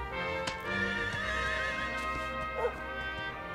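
A horse in the video game Dragon Quest XI gives a loud whinny over a steady in-game music and ambience bed, with faint hoof sounds around it.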